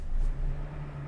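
A JCB 220X excavator's diesel engine, started by push button, catches and settles into a low, steady rumble with a constant hum, close and short.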